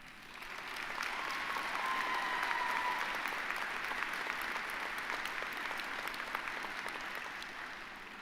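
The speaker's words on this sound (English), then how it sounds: "big applause to our faculty and staff who made this virtual" A large audience applauds faculty and staff during the NSCC Truro Campus 2022 convocation; the clapping swells in, holds steady for several seconds, and stays moderately quiet and somewhat distant, with faint tonal sound beneath.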